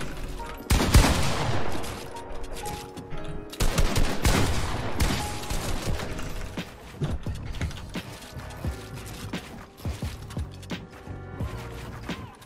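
Gunshots ring out in a video game box fight, with sharp bursts of rapid fire followed by scattered single shots and clattering building sounds. Gameplay noise runs throughout, loud at first and then trailing off.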